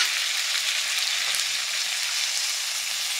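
Potatoes and bori fry with spices in a pan, giving a steady, bright sizzle that carries evenly throughout at moderate volume, with no voices.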